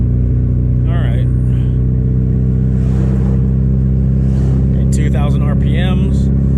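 A Subaru STI fitted with a Tomei exhaust and a big turbo cruises at low revs, giving a constant loud, deep droning rumble heard from inside the car while someone talks over it.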